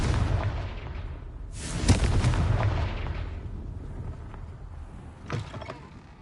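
A Confringo fire spell blast in Hogwarts Legacy, with a loud burst followed by a rolling, rumbling roar that slowly fades, and a smaller second impact near the end.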